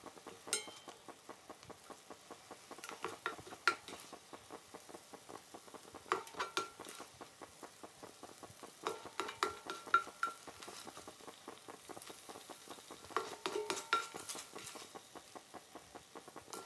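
Ground meat frying in a pan for Creole dirty rice while a utensil stirs and breaks it apart, soft steady sizzle with recurring scraping and tapping bursts every few seconds.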